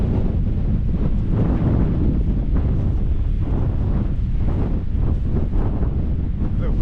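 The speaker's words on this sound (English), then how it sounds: "the difference in the wind once you get down here" Strong wind buffets a microphone at a Dartmoor campsite, a loud continuous roar with gusting surges throughout, no voices over it.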